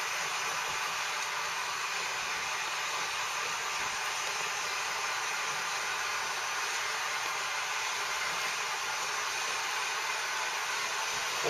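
A heat gun blows hot air steadily over a boat keel while fitting a KeelEazy keel protector, producing a continuous loud broadband whoosh with no breaks and no talking.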